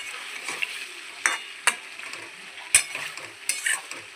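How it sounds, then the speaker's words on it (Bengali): Boiled potatoes being stirred in a cooking pan for a chicken and pointed gourd curry, with a steady frying sizzle and irregular scraping strokes of the spoon, close and moderately loud, no talking. "তো দিয়ে ভালো করে নাড়াচাড়া করব।"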